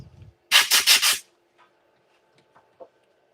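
Four quick, loud rasping strokes of abrasive grit against a turned wooden piece spinning on a wood lathe, followed by a few faint soft taps, with no talking.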